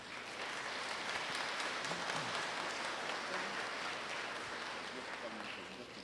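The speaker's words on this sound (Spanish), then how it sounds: "Un aplauso." A church congregation at Santa Cruz de Soyapango parish applauds, a soft, even wash of many hands clapping heard from a distance, with faint voices mixed in.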